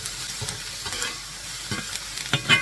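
Ham sizzles and crackles steadily in a hot pan, with occasional soft scrapes and taps of stirring; no voices.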